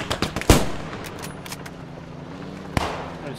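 Video game gunfire in Squad 44, a World War II shooter, heard on a North African desert map: a few sharp cracks, then one loud close shot and another a couple of seconds later, with faint scattered pops around them.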